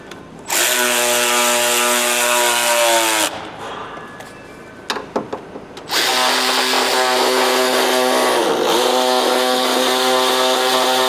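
A cordless power ratchet or impact tool tightening bolts during radiator removal on a Ford 6.7 diesel truck: two long, loud, whirring runs separated by a brief pause with light clicks and handling noise.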